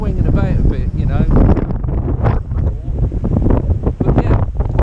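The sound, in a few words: strong wind gusts outdoors while fishing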